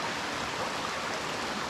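Boland's Creek flowing beneath a trail footbridge in the mountains, a soft, steady rush of running water, even and continuous with no talk.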